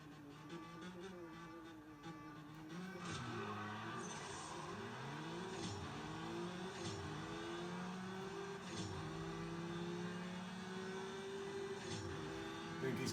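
Racing car engines in the mobile drag racing game CSR2, revving and rising through gear shifts with a steady whine, fairly faint and continuous.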